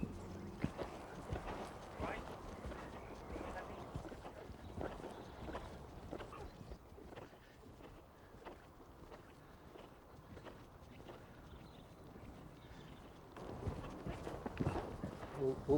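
Horse hooves cantering on an arena surface during dressage-for-jumping training, a steady rhythmic drumming of hoofbeats at moderate distance under continuous talk.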